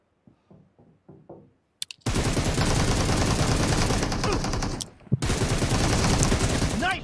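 Automatic rifle fire from an M762 and an AKM in a shooting video game: loud, sustained bursts with a short gap mid-way. Brief voices and small clicks come before the shooting starts.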